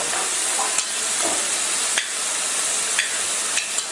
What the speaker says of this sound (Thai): เริ่มสุกแล้วนะคะ หมูเริ่มสุก